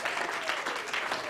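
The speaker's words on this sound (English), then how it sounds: "An additional round of applause, ladies and gentlemen." A brief burst of audience clapping at a United Disabled Persons of Kenya gathering, steady and fairly dense with a faint pulsing rhythm, moderately loud and without talk.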